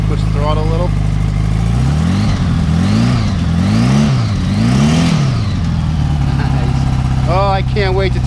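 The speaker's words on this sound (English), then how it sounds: "You guys push the throttle a little." A Honda Goldwing motorcycle engine runs with its choke on, its low steady idle rising and falling through several throttle revs in a regular rhythm, loud and close, while people talk over it.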